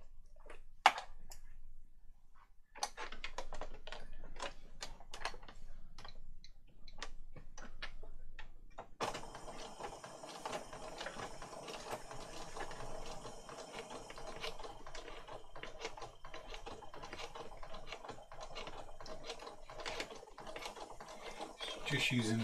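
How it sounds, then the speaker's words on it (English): A sewing machine with a zipper foot stitches along the edges of a junk journal cover, a steady fast mechanical whirr and ticking running continuously after a few short starts, with faint talk early on. "We're now just about to sew up the edges"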